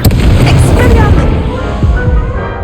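Expelliarmus spell cast during a duel in Hogwarts Legacy, a loud booming burst with a crackling magical whoosh that quickly decays, followed by fainter thuds.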